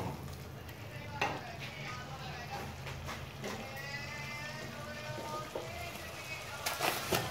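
Chicken curry masala cooks in a pan with oil separating, giving a steady close sizzle and bubbling with scattered soft stirring clicks and a few sharper taps toward the end.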